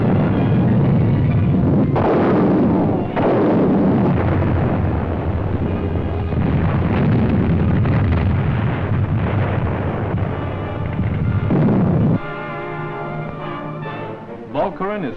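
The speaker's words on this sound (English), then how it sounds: "Beveland is shelled by our guns" Artillery shelling of Beveland in a WWII newsreel sounds as a dense, continuous roar of heavy booms and rumbling blasts, loud and muffled like an old film soundtrack, with a few abrupt shifts in intensity.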